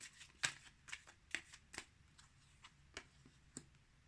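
Tarot cards being shuffled for an Aries love reading, a quiet string of crisp riffles and card flicks, uneven in rhythm and heard close up with no talking.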